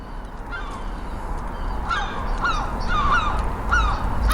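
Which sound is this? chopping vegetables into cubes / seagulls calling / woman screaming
seagulls calling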